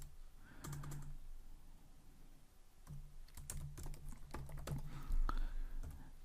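Fingers tap on a computer keyboard while coding in Kotlin for Android, irregular bursts of close, soft key clicks with short pauses between flurries.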